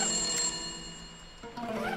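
A telephone rings in the Korean school horror game White Day, a bright electronic trill that repeats steadily and sits clear and fairly close, fading slightly before another burst of ringing near the end.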